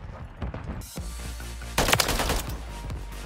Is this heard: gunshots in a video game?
yes